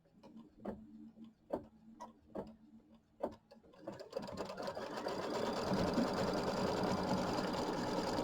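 A sewing machine stitches tack-down lines on a quilt, starting with a few slow, separate needle thumps, then speeding into a continuous, steady whirring run.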